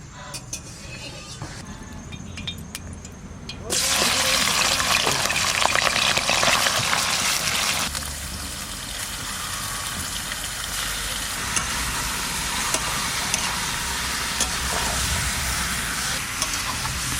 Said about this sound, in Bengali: সাদা তেল দিয়ে দেবো কড়াইতে